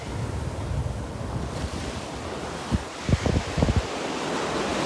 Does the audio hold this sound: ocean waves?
yes